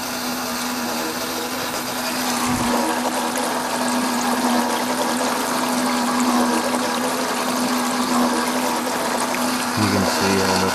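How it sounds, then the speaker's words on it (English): Pumped water runs steadily through a gold highbanker, a continuous loud rushing and gurgling with a motor-like hum underneath, unbroken for the whole stretch with no talking. "I have to slow down the water just a little."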